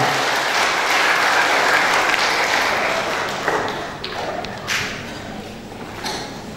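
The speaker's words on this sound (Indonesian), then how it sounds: "Yang 8, berikan aplaus yang meriah." A church audience applauds a competing choir, number 8, at a gospel choir contest in Malakiri, Sangalla; steady, dense clapping fills the first half, then gradually thins into scattered claps and crowd noise.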